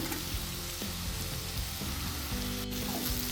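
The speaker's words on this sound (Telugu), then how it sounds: "ఇప్పుడు దీంట్లో మనం ఇందాక వేసుకున్న ఎండు చేప ముక్కలు వేసేసుకుందాము" Dried salted fish pieces sizzle and fry steadily in a pan, a continuous close crackle with occasional stirring scrapes.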